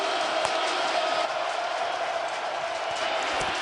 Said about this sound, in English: we hear the crowd getting louder and louder and louder, especially on a critical 3rd and long